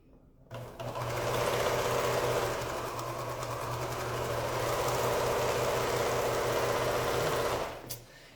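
A sewing machine runs steadily for about seven seconds as quilt pieces are stitched right sides together, a close, continuous mechanical whir that starts and stops abruptly, with no talk.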